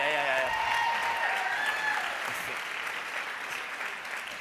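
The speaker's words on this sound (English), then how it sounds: "I feel like we need to give him another round of applause for that," An audience at an event about living with Duchenne gives a round of applause, steady clapping that slowly fades a little, with a voice talking over the start.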